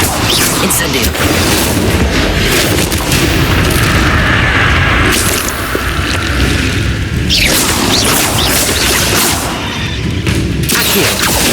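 The Incendio fire spell is cast in Hogwarts Legacy, a loud, dense roaring whoosh and booming crackle of magical flames that fills the whole span, with surging blasts and a voice briefly shouting over the effects.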